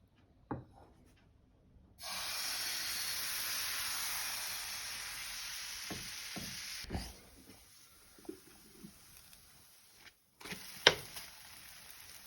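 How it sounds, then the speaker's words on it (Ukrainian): Crepe batter hits a hot pan with a bright, steady sizzle lasting several seconds, followed by quieter scraping, taps and light clatter of cooking utensils. "І розпочинаємо жарити."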